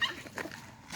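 A kennel puppy out walking lets out a brief, close whimpering yip, a short high-pitched canine cry over soft outdoor background.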